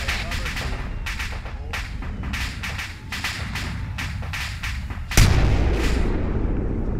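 A demolition charge goes off in the military video game ArmA, a sudden heavy boom followed by a rumbling tail, after a series of rapid sharp gunfire bursts.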